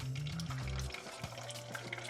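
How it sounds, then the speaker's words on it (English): Oil sizzles and crackles steadily in a pan as an egg fries, with a low hum and a few soft clinks of a utensil, no voices. "All right, got a little bit of sizzling going on."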